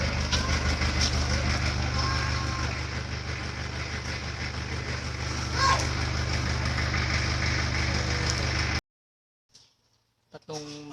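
A Mitsubishi Adventure engine runs at high revs near 5,000 RPM during a muffler and exhaust pipe cleaning job, a loud, steady drone that holds for several seconds, then cuts out abruptly to near silence with a few faint knocks.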